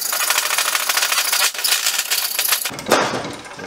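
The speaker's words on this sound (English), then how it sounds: "the downside to cutting with a hacksaw is that it leaves a pretty rough, ratty end on it" A hacksaw cuts through plastic pipe for a DIY water rocket launcher, close rapid rasping strokes in a steady rhythm, ending with the pipe coming apart and a brief clatter.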